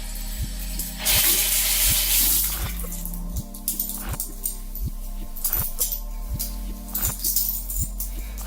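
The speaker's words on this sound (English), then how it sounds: "So first thing I'm going to do is wet my hair a little bit." Running water from a shower spray streams steadily as someone wets their hair, with a hiss that surges and shifts while a quiet periodic ticking or knocking pulse runs underneath.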